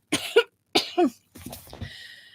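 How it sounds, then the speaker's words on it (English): Two pairs of rough, hoarse coughs in close succession, near and fairly loud, followed by a raspy throat-clearing breath. "then followed it with two hoarse coughs"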